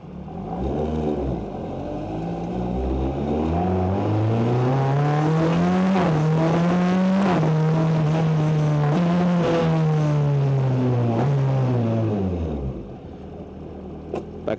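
BAC Mono sports car driven on a road in the rain, its engine heard from the cockpit climbing and holding steady revs through the gears for most of the stretch, loud and close before dropping off.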